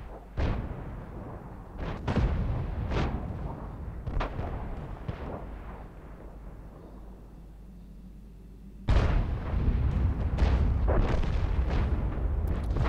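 Artillery fire from a G.W. Tiger (P) self-propelled gun in the World of Tanks video game: repeated loud booming shots in rapid succession, with a fresh burst of heavy blasts near the end, no talking.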